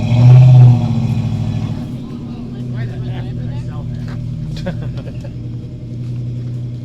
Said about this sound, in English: That's the original motor from my Truggy.